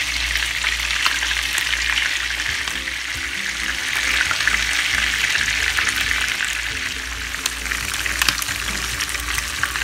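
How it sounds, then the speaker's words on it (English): Steady, loud sizzling and crackling of chicken frying in hot oil in a pan, continuous throughout without speech. "we're done for frying the chicken"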